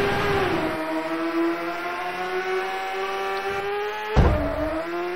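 Exaggerated PS1 Rage Racer car engine whining at a high, steady pitch that holds, dips, then climbs again after a brief loud thump, prominent and close.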